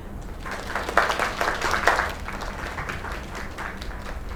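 Applause from a crowd in the video game Lake, a steady patter of clapping that swells briefly and then holds at a moderate level.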